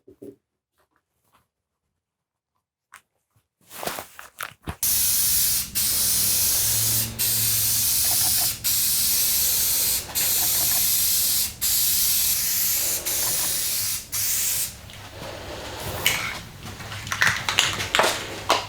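A spray paint can coats a wooden noodle board stove cover in a string of loud, close hissing bursts, each a second or two long with brief gaps between them, followed by quieter rustling and handling sounds.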